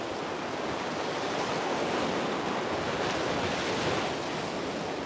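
Surf breaking on a damp, windy South Florida beach at about 60 degrees, a broad continuous roar of waves with gusting wind noise that swells slightly midway, no voices.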